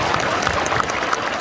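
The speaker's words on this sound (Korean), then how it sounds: "박수." Audience applause at a political lecture in Korea, steady and loud continuous clapping with no pauses over a short stretch.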